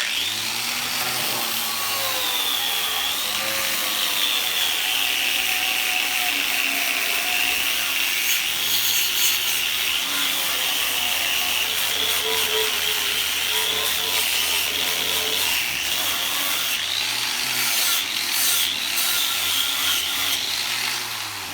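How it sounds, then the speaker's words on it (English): A wire brush scrubs black soot out of freshly welded body panels on a Chevy pickup, making a steady, loud, continuous scratching rasp that carries on without pause. "I'm just going to clean this with the wire brush and get all this Black out."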